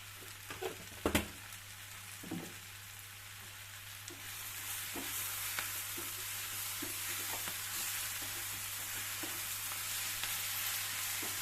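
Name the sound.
spinach curry frying in an open pan, being stirred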